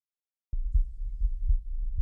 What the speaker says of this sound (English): this is Fulgrim's heartbeat that we're hearing